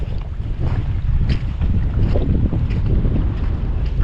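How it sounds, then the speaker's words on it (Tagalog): Strong wind gusting outdoors at a storage building under construction, a steady loud roar with buffeting rumble against the microphone, no voices. "Lakas ng hangin"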